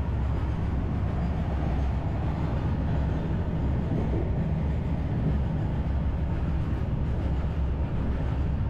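Araku passenger train with a Vistadome coach rolling along the line, heard from on board as a steady low rumble of wheels and carriage noise, continuous and even throughout without talk.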